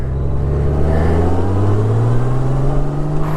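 A 2018 Honda Goldwing DCT motorcycle accelerates, its engine rising steadily in a loud, close continuous drone as it pulls through a smooth gear change.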